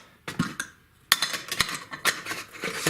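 Metal camping cookware, a frying pan and a big pot, clanks and clinks as it is handled and knocked together, a series of sharp irregular hits up close.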